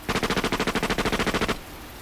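A rapid automatic burst of gunfire, about fifteen evenly spaced shots in a rattling rhythm lasting a second and a half, loud and close, then it cuts off into quiet.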